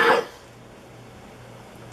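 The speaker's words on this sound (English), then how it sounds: "Sorry about the coughing." A single short cough at the very start, close and fairly loud, then only quiet room hiss with a faint low hum.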